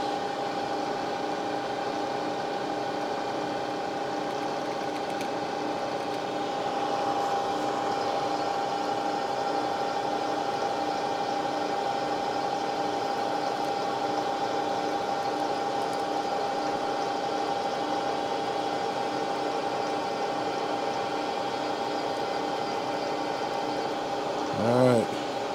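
Metal lathe running slowly in back gear at about 150 RPM, a steady close mechanical hum with layered whining tones that holds level throughout, ending in a brief swelling whir.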